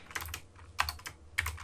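C code is typed on a computer keyboard in three short clusters of crisp key clicks, close and clear, with brief pauses between them.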